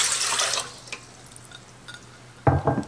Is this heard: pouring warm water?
yes